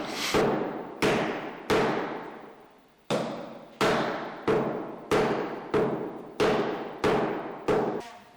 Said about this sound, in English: And here we see our boss sealing a cask.